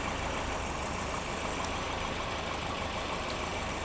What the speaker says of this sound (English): But the engine's running pretty well, I'd say.